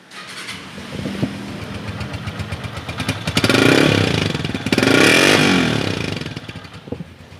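A used Pakistani motorcycle, likely a Honda 125-class bike, already running with a steady, close engine idle and mechanical clatter, revved twice in rising and falling swells, with no talking.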